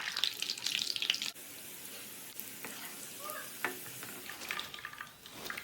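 Potato chips fry in hot oil in a pan, a steady close sizzle with brief clinks and stirring knocks, easing to a softer crackle.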